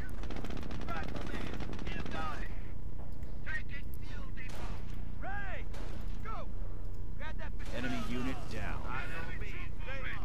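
Bursts of machine gun fire in the World War II strategy game Company of Heroes 2, rattling in the background beneath someone talking continuously over the battle noise.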